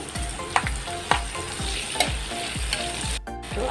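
Mustard seeds, cumin and dried red chillies frying in oil for semiya upma, an even close sizzle punctuated by a regular series of soft scraping strokes of a spatula, with a brief break near the end.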